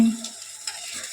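Eggplant pieces coated in masala sizzling in hot oil as a spoon stirs and turns them in the pan, a short burst of close frying crackle with a soft scrape.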